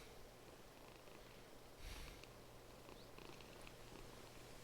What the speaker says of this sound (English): One of these cats is purring.